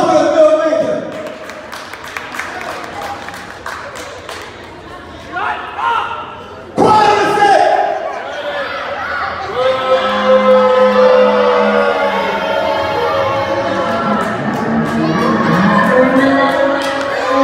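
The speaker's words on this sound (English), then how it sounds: "applause for the filmmaker" A crowd at a rap battle cheers, shouts and applauds loudly and steadily after a sharp thump, with voices calling out over the din.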